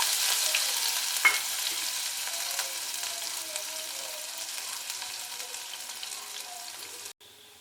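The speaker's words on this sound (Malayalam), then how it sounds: "പാനിനകത്തോട്ട് ഇച്ചിരി എണ്ണ ഒഴിച്ച് കൊടുത്തിട്ടുണ്ട്. ഇനി അതിലേക്ക് വെളുത്തുള്ളി ഇഞ്ചിയും കൂടെ ചോപ്പ് ചെയ്ത് കൊടുക്കാൻ പോകണം." Chopped garlic and ginger fry in oil in a pan with a steady bright sizzle, close and fairly loud, and a brief clatter near the start.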